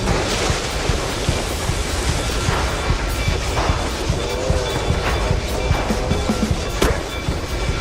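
A train rumbles past in the video game Mouse: P.I. For Hire, a loud, continuous broadband roar with rhythmic clatter that stays steady throughout, with no voices.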